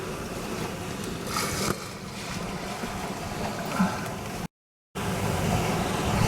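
Mingming II, a small sailboat, runs before a stiff north-easterly at sea. A loud, steady rush of wind and water continues throughout, with one brief dropout near the end and no voices.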